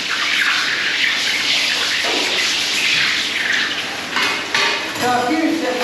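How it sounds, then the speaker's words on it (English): Hot gold is quenched in cold water, giving a steady hiss and sizzle with light splashing and clinking of metal, loud and close throughout. "So a few seconds in cold water should be enough for it to shed enough of its heat for me to be able to pick it up."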